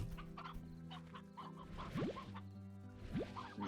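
In Slime Rancher, a rooster's repeated clucks come in short bursts over a low, steady background music drone, with two quick upward squawks punctuating the run.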